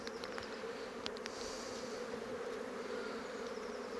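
Honeybees buzz around an opened beehive, a steady close droning hum with a few sharp clicks and knocks of handling over it.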